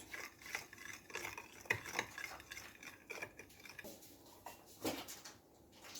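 A spoon stirs lukewarm water and sugar in a bowl while preparing yeasted poğaça dough, clinking and scraping against the sides in a quick, uneven rhythm, close and fairly quiet.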